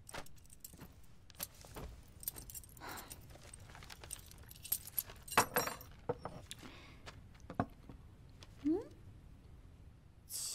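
A bunch of keys jangles in a period drama, metallic clinks in scattered bursts across about ten seconds, moderately near, with voices in the background.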